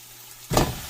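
Chicken legs dropped into hot fried masala in a pan for a homemade spicy chicken curry, a sudden burst of loud sizzling after a quiet moment, continuing as a strong frying hiss.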